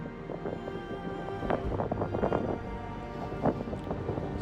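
Wind buffets across the deck of the Alaska ferry Kennicott as it moves through the Gulf of Alaska, a steady broadband roar with low engine hum beneath and gusty swells, with no voices heard.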